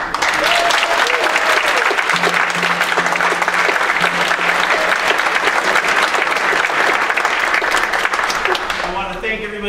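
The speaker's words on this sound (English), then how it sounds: "how about another round of applause for Campus Orchestra?" Concert audience applauding a campus orchestra at a university band and orchestra concert: dense, sustained clapping filling the hall for several seconds, with a little crowd murmur and a few faint voices, tapering at the end.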